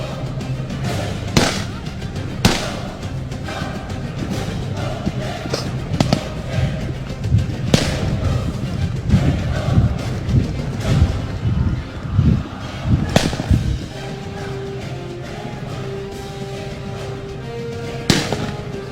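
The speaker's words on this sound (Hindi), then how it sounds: "ये पुलिस की जानिब से फायर और दूसरी जानिब मुल्जमान की जानिब से भी फायर हो रहे हैं।" Gunfire exchanged between police and suspects, including pistol shots, comes as repeated sharp cracks and bangs at irregular intervals, some near and some farther off, over a constant noisy outdoor background.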